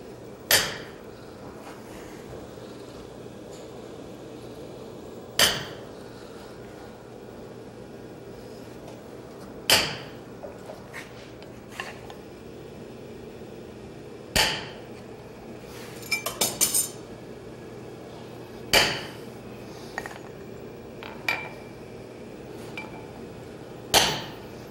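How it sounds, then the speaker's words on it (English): A treadle hammer drives a curved hot cut at a blacksmithing conference, heard as sharp metallic strikes every four to five seconds, plus a quick cluster of lighter clinks, over a steady room hum. "That's a treadle hammer job."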